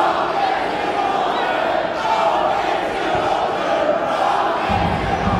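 Home supporters chanting in the stands at a women's Bundesliga football match between Bayern Munich and Eintracht Frankfurt, a dense, steady roar of many voices filling the stadium with a sustained rhythmic swell throughout.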